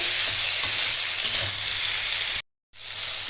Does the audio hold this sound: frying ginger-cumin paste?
yes